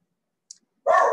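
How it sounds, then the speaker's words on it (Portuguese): A dog at home barks once, nearby and loud, after a faint click and a moment of near silence. "Nossa, meu cachorro aqui."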